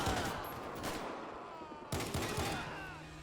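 Dual-wielded guns in GTA 5 fire in quick overlapping bursts, sharp cracks in two clusters separated by a brief lull, fairly faint overall with game ambience behind them.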